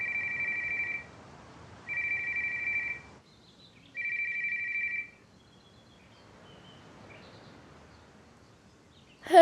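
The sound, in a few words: telephone ringing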